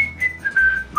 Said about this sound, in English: Yeah, I was real busy. I was whistling.